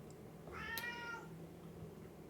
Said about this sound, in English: This is Hamilton, for those of you who don't know my cat